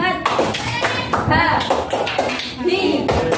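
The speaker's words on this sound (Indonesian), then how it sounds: "Tepuk semangat dulu ya anak-anak." Children in an Indonesian classroom perform the rhythmic tepuk semangat clapping chant, bursts of hand claps alternating with sung or chanted voices in a steady pattern, close and lively.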